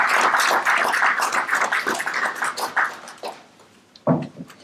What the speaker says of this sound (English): So please join me in giving a round of applause.